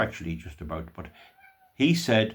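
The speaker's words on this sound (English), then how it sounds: "excuse the cat, oh, she's wet" A wet female cat gives a short, quiet meow in a brief pause between stretches of a man's close, steady talking.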